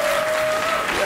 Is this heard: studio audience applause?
yes